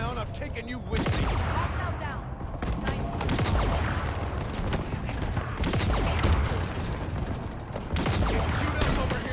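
Bursts of gunfire and explosions from the video game Halo Infinite, dense, loud volleys coming in clusters with short pauses, mixed with game effects and voices talking underneath.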